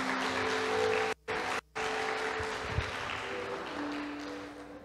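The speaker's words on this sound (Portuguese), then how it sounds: "Então agora você aplaude o Senhor." Applause at a prayer group, a soft, fairly distant patter of clapping from a gathered congregation, steady throughout with two brief dropouts and faint background tones.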